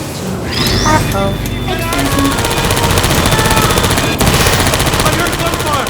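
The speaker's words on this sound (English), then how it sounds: "I heard gunfire." Gunfire in the video game Portal 2 rattles in rapid automatic bursts, loud and continuous, mixed with electronic game tones and a short voice.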